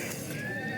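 A horse on the Amarnath Yatra pilgrimage trail gives a loud, close whinny, with faint hoof clatter underneath.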